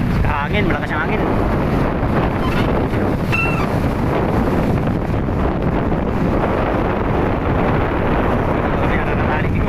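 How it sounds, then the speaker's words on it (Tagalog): Strong wind buffets a boat at sea off the western Philippines amid heavy waves, a loud continuous roar with rushing water beneath and a voice talking briefly over it. "Sa hangin, malakas yung hangin."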